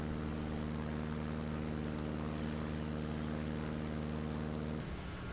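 Propeller airplane engine in a flight simulator game, a loud steady drone with strong tonal hum running alone, then dropping off sharply near the end as the throttle is pulled back.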